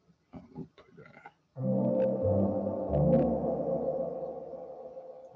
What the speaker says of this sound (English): I used a foreign native plugin for one of the main melodies in the track.